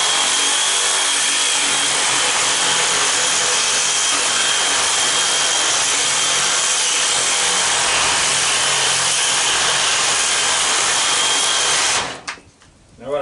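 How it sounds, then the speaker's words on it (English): A Sawzall reciprocating saw cuts steadily through the copper and aluminum A-frame coil of a scrapped air-conditioning unit, a loud, continuous harsh buzz running for about twelve seconds before stopping abruptly. "I try to give the sawzall a little twist where the cutting edge of the blade is kind of aimed towards the tin"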